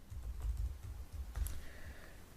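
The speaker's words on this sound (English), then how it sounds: "So I'm going to type that in." Computer keyboard typing as a username is entered at a login screen, a quick run of close, soft key taps in short bursts with brief pauses, no voices.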